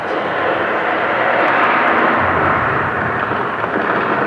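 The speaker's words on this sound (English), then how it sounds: "that is just the sound of the ice shifting around us." A steady, loud, low broadband rumble fills an ice-lined chamber sixty feet underground as the ice shifts, holding constant throughout with no talking.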